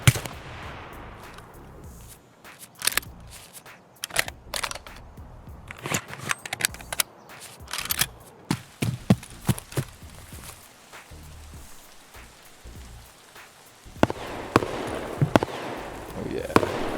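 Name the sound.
gunfire in video game Escape From Tarkov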